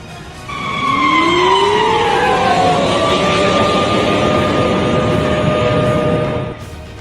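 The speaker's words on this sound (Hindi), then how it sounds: "चार दिनों से बज रहा है सायरन।" A loud air raid siren in wartime Ukraine wails, its tones gliding and sustained for several seconds before cutting off, over a steady background rumble.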